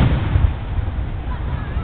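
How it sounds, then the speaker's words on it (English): Fireworks going off nearby: a dense, steady low rumble of booms and thuds with a few stronger bursts, fairly loud and without clear gaps. "He probably doesn't know he's doing fireworks."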